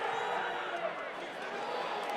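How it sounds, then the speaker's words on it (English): Rugby crowd at a USA versus Chile 2022 World Cup qualifier in Denver gives a sustained, moderately loud murmur and cheer, a broad wash of voices without a sharp peak. "The crowd enjoy this one"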